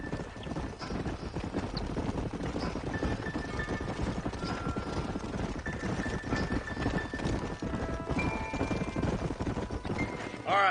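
Horse hooves clip-clop steadily in a Red Dead Redemption canyon scene, several riders moving together at a walking pace, with a faint whinny and light ambient game sound.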